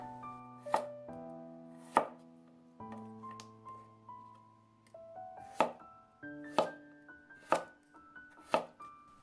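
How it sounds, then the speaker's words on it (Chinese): A knife chops a cucumber into strips and dice on a board: about seven crisp, separate strikes at an uneven pace, close and clear over soft piano music. "再切成长条，最后给它切成黄瓜丁"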